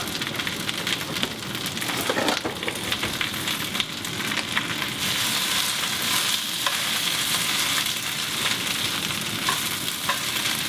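Escarole wilting in a pan with garlic and white beans, a steady close sizzle and crackle of frying that runs continuously without talk.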